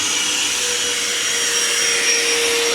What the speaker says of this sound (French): Tu peux couper l'aspirateur.